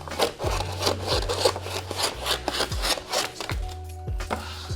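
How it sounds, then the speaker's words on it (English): Excess wallpaper is trimmed along a wall, giving repeated short scraping and cutting strokes with soft rubbing in between, close and fairly quiet, in an irregular rhythm over a few seconds. "Just going to trim some of this excess off now."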